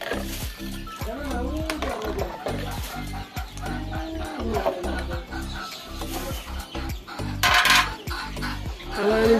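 A spoon clatters and scrapes in a cooking pot, stirring a vegetable khichuri of rice and vegetables as it comes to a boil, in a busy, irregular rhythm of knocks and scrapes at close range.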